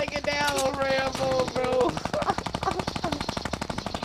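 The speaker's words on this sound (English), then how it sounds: "over here with the minigun" Fortnite minigun firing in a rapid continuous stream of shots, loud and up close, with excited voices talking over the early part.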